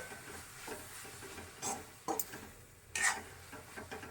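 Cooked beetroot leaves and flour being stirred in a pan, soft scraping with a faint sizzle underneath and a few sharper clicks of the spoon against the pan, quiet and close.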